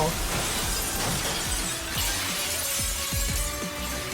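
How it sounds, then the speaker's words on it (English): Stained glass shatters in the video game No Straight Roads, a burst of crashing, tinkling breakage with repeated smaller impacts over a continuous game soundtrack. "Oh, I guess that was stained glass."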